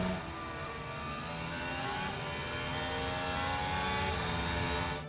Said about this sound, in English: Let's turn that down so it doesn't deafen you when we get engine noises